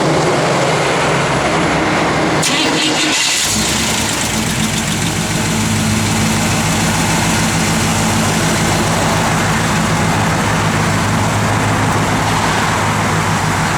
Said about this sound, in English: That's how you just kick the air compressor on.